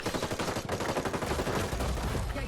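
Rapid automatic gunfire in the video game Hyper Scape, a dense unbroken burst of loud shots filling the whole moment, close and heavy.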